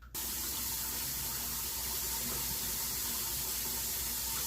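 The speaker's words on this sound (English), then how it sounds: "And then I'll just go over it with cold water to take the soap off the counter." Steady running tap water gushes while a soapy kitchen counter is rinsed with cold water, a continuous loud wash with no talking.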